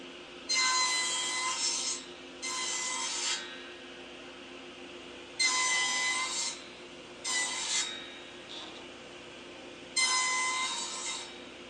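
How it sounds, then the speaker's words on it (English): Wood cut with a Kwikset tenon jig's template, giving six bursts of loud rasping, each about one to two seconds long and separated by quiet pauses, close up with no voices. "To cut these joints, I'm using the template feature of my Kwikset tenon jig"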